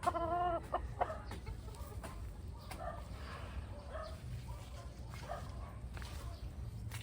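A gamefowl rooster clucks in a muddy backyard on a rainy farm, giving a few loud close calls at the start, then quieter scattered clucks over a steady rumble of outdoor noise.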